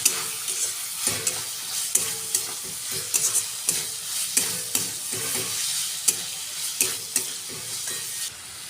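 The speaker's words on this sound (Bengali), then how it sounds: "এটা আমি ভালো করে কষিয়ে নেব।" Mushrooms fry with green chili paste and vegetable spice in a pan, soft sizzling broken by regular clinks and scrapes of a spatula stirring, close and steady with no talk.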